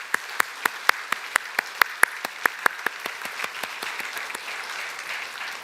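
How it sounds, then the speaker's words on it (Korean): A sparse, subdued round of clapping from a church congregation welcoming new members at a Sunday service, with one loud, evenly paced clapper close by over fainter hands that thin out and fade toward the end. "인사하실 때 박수 한번 쳐주시기 바랍니다."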